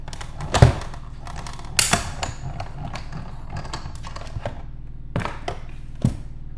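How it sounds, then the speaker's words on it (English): A die cutting machine runs paper card pieces for a shopping-themed card, giving a few loud mechanical thunks and clicks with soft cranking between them, close up and with no talking. "let's die cut these"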